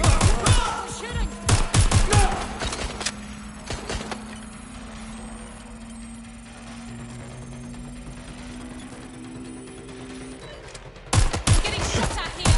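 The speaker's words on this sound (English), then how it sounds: "Getting shot at here! Taking fire!" Gunfire in the video game Watch Dogs Legion, with rapid bursts of shots at the start and end and a quieter stretch between, where a steady tone and faint speech sit underneath.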